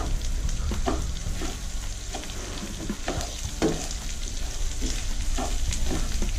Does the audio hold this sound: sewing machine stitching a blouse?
no